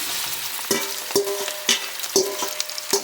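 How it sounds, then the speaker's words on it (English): Hot oil sizzles and crackles as chicken hits a hot pot, with several sharp bursts of frying at irregular intervals, close up. "ooh, you hear that sizzle? Add my chicken."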